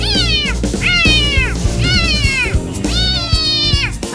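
A young child imitates a cat, giving four drawn-out, rising-and-falling meows in a row, loud and close, over a low background hum.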